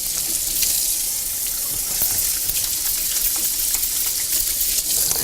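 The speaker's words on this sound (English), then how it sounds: "Just let me wash my hands quick." Water runs from a kitchen tap into a sink as hands are washed, a steady close hiss and splash lasting the whole stretch with slight surges and no talking.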